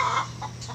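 Chickens cluck in short, close bursts on a poultry farm, over a low steady hum of farm machinery.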